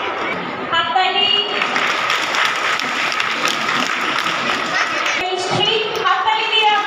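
An audience at an Independence Day celebration in Amtala Knowledge City claps steadily for several seconds, with a speaker's voice and some chatter mixed over and around the clapping.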